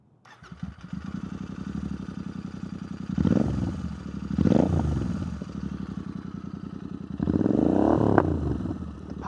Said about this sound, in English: let's do a quick warm start and see how this thing sounds. Rev it up a bit